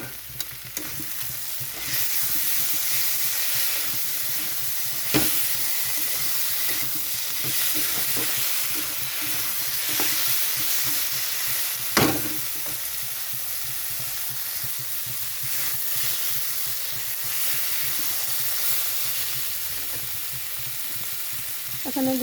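Chopped onion and tomato fry in a pan with a dense, constant sizzle. A spoon scrapes and stirs through it now and then, and a couple of sharper clicks stand out. It sounds close and continues for a long stretch.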